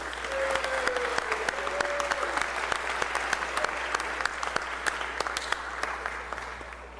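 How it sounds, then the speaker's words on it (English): Round of applause in a state House chamber at the Mississippi Capitol, steady crowd clapping sustained throughout at moderate level, with a faint tone briefly audible underneath. "So let's all give her a round of applause."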